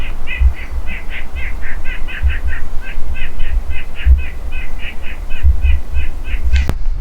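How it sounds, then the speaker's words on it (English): Flock of crows and other birds in New Hampshire woodland squawking and cawing in a steady run of harsh repeated calls, fairly close and loud, with low wind rumble beneath and no talking. "all the birds are squawking and going crazy right now because he's in the area"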